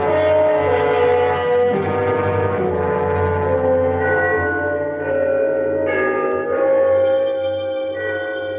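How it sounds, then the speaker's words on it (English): Trinity church bells ring the three-quarter hour in a city, a loud sustained peal of overlapping tolling tones that rings steadily throughout with no voices. "The bells of Trinity had just run the 3/4 hour"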